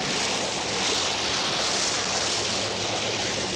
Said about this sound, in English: the passageway disappears beneath the churning waters